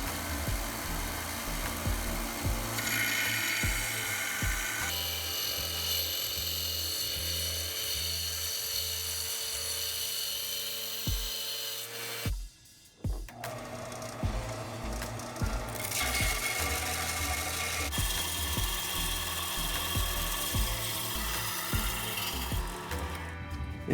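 Harbor Freight Central Machinery belt grinders, a 4-inch model and a 1x30, grind metal at the same grit with a loud steady whine and a rhythmic thump. The sound stops briefly midway, then a second grinder runs continuously.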